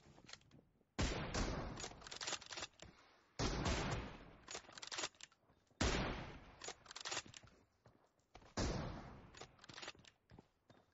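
Gunfire in a video game rings out in several sharp bursts of rapid shots, separated by brief quieter gaps with faint scattered pops, moderately loud and close.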